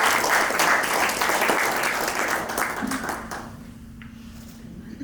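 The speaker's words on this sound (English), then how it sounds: "Give him a round of applause" An audience applauds loudly at a corporate client seminar, the clapping thinning out and fading over a few seconds into a quieter room with a faint hum.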